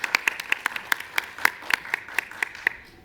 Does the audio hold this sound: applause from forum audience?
yes